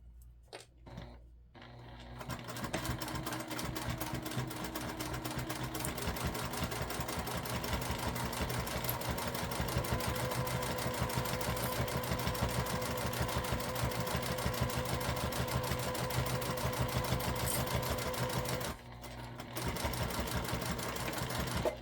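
A sewing machine runs steadily for about twenty seconds, stitching a beginner circle bag from a Sallie Tomato pattern. The motor whirs continuously and close up, with a brief pause near the end before it resumes.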